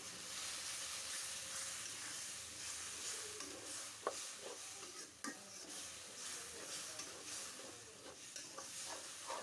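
Spiced beef liver frying in a pan, with a steady loud sizzle and hiss running throughout and occasional sharp scrapes and knocks from stirring against the pan, no voices.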